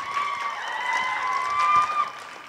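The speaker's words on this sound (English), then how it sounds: "please give a huge round of applause to the CCA drama class" Steady crowd applause with some cheering at a school talent show, a dense wash of clapping that holds at a fairly loud level throughout.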